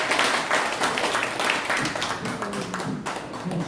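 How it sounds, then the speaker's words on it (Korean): Audience applause at the close of a special church lecture for pastors, a steady wash of clapping that holds for several seconds at moderate level with no one speaking over it. "다시 한번 뜨거운 박수로"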